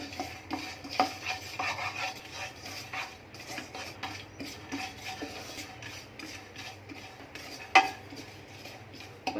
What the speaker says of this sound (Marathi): पहिले आपण खसखस भाजून घेऊ आपण ह्याच्यात चारोळ्या पण टाकूया त्या पण थोड्या शेकून घेऊया